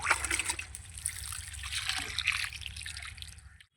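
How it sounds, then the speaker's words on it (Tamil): Water pours onto soil in a basket newly planted with small onions, a close gurgling trickle that runs steadily and then stops abruptly at the end. "இங்கே நம்ம தண்ணி ஊற்றிக்கலாம்."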